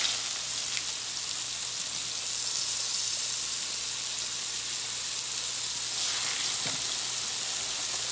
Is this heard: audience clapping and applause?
no